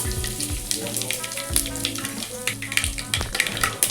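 Mustard seeds, cumin and asafoetida sizzling in hot oil as a tempering for drumstick leaf dal: a short burst of crackling and spattering over a low, steady tonal background.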